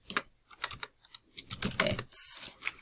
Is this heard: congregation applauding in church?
no